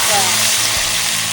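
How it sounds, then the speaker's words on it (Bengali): Cumin seeds and bay leaf sizzle in hot oil, a loud, steady, close frying hiss throughout the short stretch, with a faint low hum underneath. "তেল গরম হয়ে গেছে, এবার জিরেগুলো দিয়ে দিলাম, তার সাথে তেজপাতা,"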